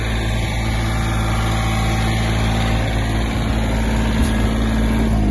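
Mitsubishi MT-20 Japanese mini tractor engine running at raised throttle with the power take-off turning, a loud steady diesel drone with a strong low hum, close and unbroken, no talk.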